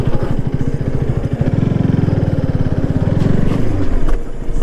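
A motorcycle engine revs hard and strains as the bike struggles to climb a slope without grip, giving a steady, loud, throbbing drone for several seconds.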